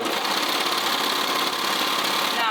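A sewing machine runs steadily and close up, stitching fabric around a raw edge with a dense, even mechanical whir and no pauses or talking.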